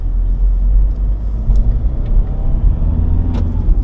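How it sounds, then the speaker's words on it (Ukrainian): A manual transmission car climbs a slope in second gear toward a speed bump, its engine a loud, steady low rumble heard from inside the cabin. "Їду на другій передачі."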